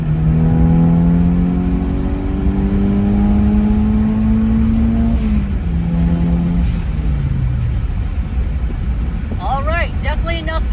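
A Toyota Celica GT-Four's turbocharged engine revs up under acceleration, its steady droning pitch climbing, dipping briefly as if shifting, then pulling again with strong continuous loudness.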